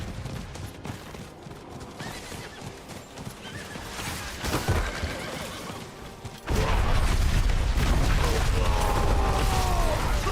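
A horse mount in the video game Diablo IV neighs and whinnies over steady clip-clopping hooves and creaking mechanical game sounds, growing louder and denser in the second half.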